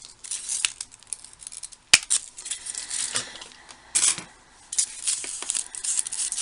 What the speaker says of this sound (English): I'm just going to get my Tim Holtz scissors because they seem to cut these better, because they're wire stems.